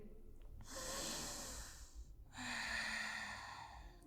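Deep yoga breathing during a beginner session, two long audible breaths close to the microphone, a drawn-out inhale followed by a slow exhale, soft and unhurried with no talking.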